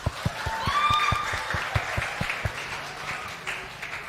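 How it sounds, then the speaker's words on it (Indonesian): Audience at a Christmas youth church event applauding, with sparse, distinct claps that come in an uneven rhythm from a small crowd at moderate volume, and a faint voice behind them. "Tepuk tangan dong."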